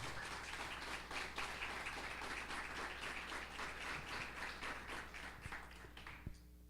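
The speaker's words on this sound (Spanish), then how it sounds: "Denle un aplauso al Señor si usted está siendo tocado por el Señor." Church congregation applauding during worship, a steady broadband patter of many hands clapping that carries on evenly, quiet and somewhat distant over a low hum, with a few taps near the end.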